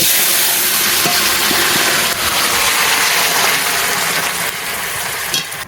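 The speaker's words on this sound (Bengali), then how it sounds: "তেলটা গরম হয়ে গেছে তেলের উপরে আমি ফোড়নে দিচ্ছি যে গোটা জিরে তেজপাতা এবার আমি তরকারিটা ঢেলে দিচ্ছি" Loud continuous sizzling and hissing as cabbage curry is poured into hot oil tempered with cumin seeds and bay leaves, a dense crackling spatter that barely changes throughout.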